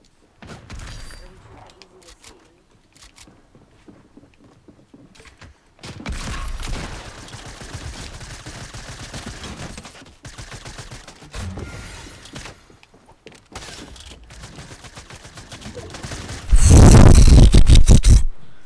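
Gunfire in the video game Fortnite, with bursts of rapid shots and clattering effects that build to a loud, dense volley near the end, close and prominent, with game noise throughout.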